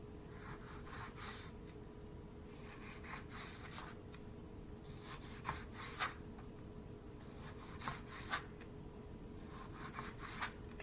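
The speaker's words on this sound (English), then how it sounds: "you take the tomato and you just make slices as thin as you can, as close together as you can" A knife cuts thin slices through a tomato on a cutting board, with repeated soft rasping strokes at an even pace against a steady background hum and a few light taps of the blade on the board.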